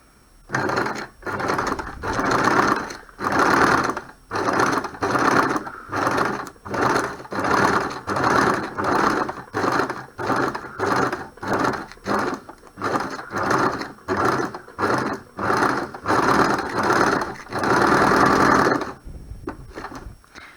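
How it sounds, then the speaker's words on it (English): A sewing machine stitches through tracing paper in steady, rapid bursts, each run of mechanical clatter lasting about a second with brief pauses between, close and fairly loud, with a slightly longer run near the end. "the sewing machine is effectively taking your piece of paper through"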